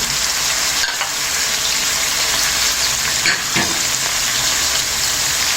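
Tomatoes and onion sizzle loudly in a frying pan with bay leaves, cinnamon stick, cardamom and mastic, producing a close, steady hissing crackle with no voices.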